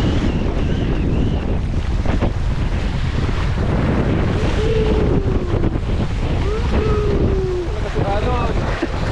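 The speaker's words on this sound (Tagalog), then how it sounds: "Alon." Sea waves wash and churn around a fishing boat amid heavy wind buffeting the microphone, with shouting voices scattered through.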